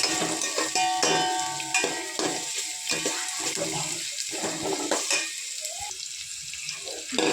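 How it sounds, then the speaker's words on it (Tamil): Capsicum and onion sautéing in a pan for simple fried rice give a steady sizzle, with stirring scrapes and clinks running throughout, close and moderately loud, with no talking. "இப்போ இது கூட குடமிளகாவையும் வெட்டி வச்ச வெங்காயத்தையும் சேர்த்துப்போம். இதுவும் நல்லா வதங்கட்டும்."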